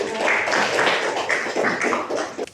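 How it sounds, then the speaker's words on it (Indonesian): A classroom of students applauds a student presentation group, a brief burst of lively clapping from many hands nearby that fades out after a couple of seconds. "Berikan aplaus untuk kelompok"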